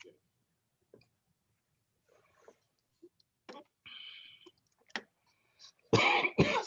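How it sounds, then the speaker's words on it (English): A few scattered coughs and throat clearing in a quiet courtroom, ending with one louder, harsher cough up close. "Let me finish coughing, if I might."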